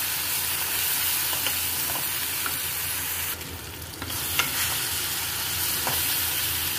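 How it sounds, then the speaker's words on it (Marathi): Onion and tomato masala with chilli, coriander and cumin powders frying in oil for an arbi sabzi, a continuous dense sizzle with occasional faint stirring scrapes, close by and steady throughout without any voices. "आता आपला हा मसाला एकदम कांदा टमाटाचा मस्तपैकी तेलामध्ये भाजून घ्यायचं"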